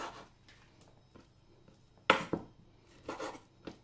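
A knife cuts meat into medium-sized pieces on a board, giving a few faint taps early on, then a sharp loud chop near the middle and a second cluster of cutting strokes toward the end, with no talking.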